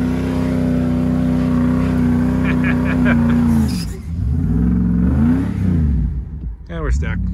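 A cheap Dodge 2x4 truck with no brakes, its engine droning loud and steady as it rips up a lawn while mudding, then dipping and surging in revs near the end. Brief voices show through.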